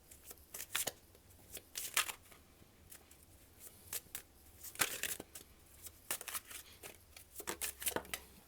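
Tarot cards are shuffled by hand and drawn from the deck, giving brisk papery riffles and soft slaps in short, separate bursts, close and fairly quiet, with no talking.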